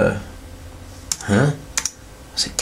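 Keys on a Toshiba AC100 netbook tapped while playing Galaga, a few sharp separate clicks spread unevenly over a couple of seconds, close and fairly clear over low background hum.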